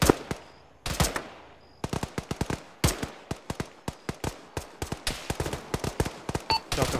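Rapid bursts of automatic gunfire in a ShackTac military video game session, sharp cracks in irregular volleys over seven seconds, some shots close and loud, others quicker and fainter.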